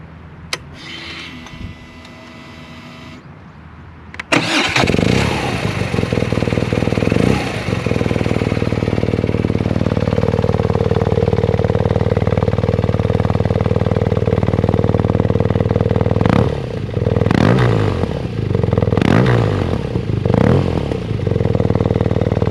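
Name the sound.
BMW R nineT Racer motorcycle engine starting and idling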